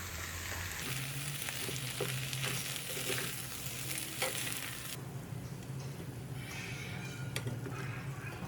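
Chicken noodles are stirred in a hot pan with sugar, white vinegar and chopped spring onion greens, giving a continuous sizzle with scraping and clinking as the spatula moves.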